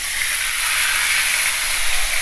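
Milkfish frying in hot oil, a loud steady sizzling hiss running without pause, close and alone with no talk.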